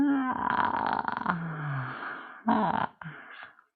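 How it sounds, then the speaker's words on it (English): A person yawns aloud, a long voiced drawn-out exhale that falls in pitch, followed by a shorter breathy second yawn-like sound, close and clear in a quiet room with no other talk. "a big circle with the mouth like a yawn, which might turn into a yawn"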